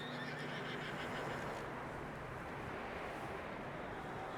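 A horse in Red Dead Redemption 2 lets out a tonal whinny that rises and wavers over the first second and a half, over a steady bed of game ambience and hoof movement, then fades into background noise.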